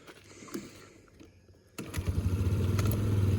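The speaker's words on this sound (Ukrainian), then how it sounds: "Все, тихесенько заводиться, працює, грає." A Suzuki Lets 5 scooter engine catches after a short, quiet lead-in and settles into a loud, close, steady putter of idle with an even rapid pulse.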